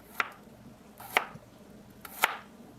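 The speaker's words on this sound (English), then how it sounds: "It sure smells good in here once you start cutting into this fresh garlic." A knife works through fresh garlic cloves on a cutting board, three sharp, isolated chopping knocks spaced about a second apart, close and fairly quiet against a faint background.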